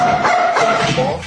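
A pet dog yips and barks in a quick string of short calls, close by, answering a spoken command among a run of trick cues.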